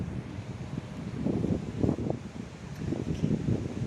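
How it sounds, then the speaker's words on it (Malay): Wind blowing outdoors on a calm, overcast afternoon, a steady broadband rush with low gusty swells and rustling, swelling slightly louder through the middle and end. "sangat-sangat windy, berangin"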